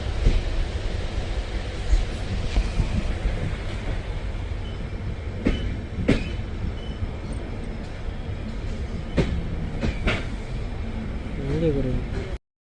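A train rolling through Puttur railway station, a continuous loud rumble with sharp clanks and wheel knocks at intervals and a brief squeal near the end, with people talking over it.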